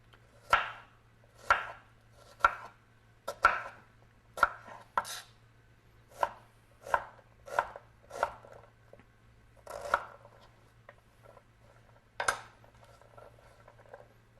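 A knife chops through an onion on a board, about a dozen crisp, separate thuds at a loose, unhurried pace, close and clear over a faint low hum.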